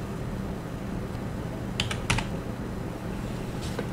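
Short bursts of keystrokes on a computer keyboard, a few quick clicks clustered together, faint and close, over steady background hiss.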